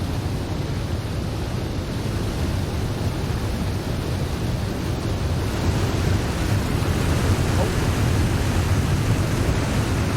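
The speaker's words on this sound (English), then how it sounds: "Hear the power of the waterfall." Constant thundering rush of a waterfall in the survival game The Long Dark, a broad, powerful wash of water noise, loud and unbroken from start to finish.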